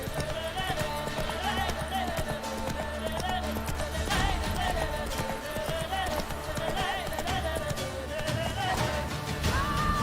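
Roach, the horse in The Witcher 3, galloping with a steady, rhythmic clip-clop of hooves over a dense game soundtrack, close and continuous.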